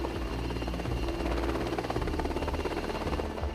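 A military helicopter flies low over the sea during helocasting, with troops jumping from it into the water. Its steady, dense rotor and engine roar stays loud and constant throughout.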